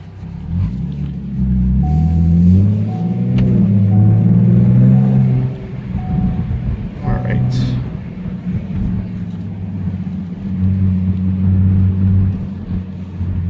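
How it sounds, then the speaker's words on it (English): The V6 exhaust of a 2015 Ford Mustang is heard from inside the car while driving on a road after rain. A deep, rumbling drone swells as the car accelerates, then eases and holds steady under cabin noise. "Let me bring down the window so you can hear the exhaust as well"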